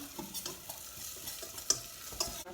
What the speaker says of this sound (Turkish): Çok az bir şey de böyle pirincimi kavuracağım.